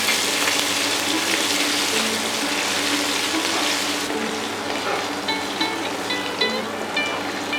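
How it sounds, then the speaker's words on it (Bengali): Ginger paste fries in hot oil with mustard seeds and a bay leaf over medium heat, a strong, steady hiss. It eases slightly partway through and is then joined by light scraping and ringing taps. "ফোড়নের খুব সুন্দর একটা গন্ধ বেরোলে 1 টিস্পুন আদা বাটা দিয়ে মাঝারি আঁচে ভাজতে থাকবো।"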